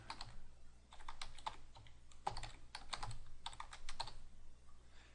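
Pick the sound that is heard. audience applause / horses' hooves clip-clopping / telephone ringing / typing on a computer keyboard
typing on a computer keyboard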